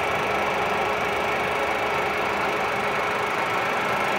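A 1995 Longem 20/28-inch gap bed gear head engine lathe running at about 180 RPM gives a steady, loud mechanical hum and whir with faint gear chatter, continuous and close, with no voices.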